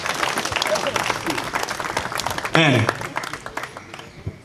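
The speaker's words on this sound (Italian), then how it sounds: "lo accogliamo qui sul palco con un grandissimo applauso spontaneo" Applause rises for a writer from Viterbo welcomed onto the stage at a book presentation, a dense burst of clapping mixed with talk throughout and a brief tonal voice near the middle.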